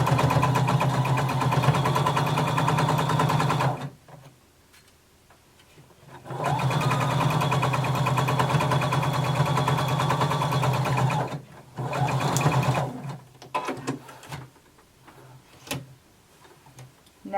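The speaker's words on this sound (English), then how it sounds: "I want you to go back and sew over it again. And now continue to the end." A home sewing machine runs in two steady bursts, backtacking over a belt loop while sewing garment side seams from Simplicity pattern 1283, with a short pause and some faint handling noises between runs; no one speaks.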